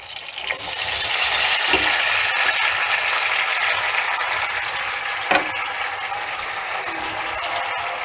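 Chopped tomatoes dropped into well-heated oil for a Telugu-style tomato pickle, a loud, dense sizzle that swells within the first second and holds steady, with a couple of brief clinks of a utensil.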